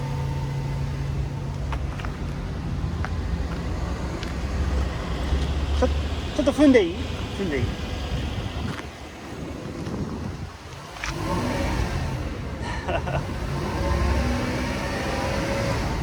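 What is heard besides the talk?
1997 Toyota Century V12 engine idling and revving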